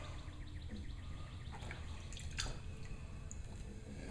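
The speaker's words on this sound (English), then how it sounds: "What I like to do is get a little bit of water in them." Faint, sparse drips and small wet squishes as water is worked into sausage casings while making fresh Cajun pork sausage, scattered irregularly over a low steady background hum.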